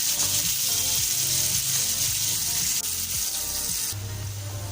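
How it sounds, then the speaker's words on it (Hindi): Onions sizzling steadily in hot oil in a pan for an Arvi chicken masala, a dense, continuous frying hiss with occasional stirring clatter and no talking. "प्याज को हमने बहुत ही अच्छी तरीके से फ्राई करना है और इसको बिल्कुल लाइट गोल्डन कलर में कर लेंगे।"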